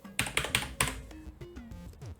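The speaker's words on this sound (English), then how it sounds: "if you plan on typing on this, is it has this really annoying twang at the end" Keys clack on a Kmart full mechanical keyboard, four firm strokes followed by a lingering metallic twang that rings out after each press, close and clear.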